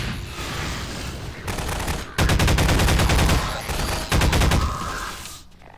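Combat in Half-Life 2 with a grenade going off: sustained rapid gunfire and heavy blasts, loudest in two sudden booming bursts, fading out at the end.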